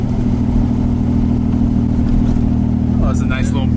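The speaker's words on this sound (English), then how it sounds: "Oh, that exhaust leak sounds so bad." Nissan 300ZX with an exhaust leak cruising on the road, its steady mid-range engine drone running loud and unbroken the whole time, while a voice speaks briefly near the end.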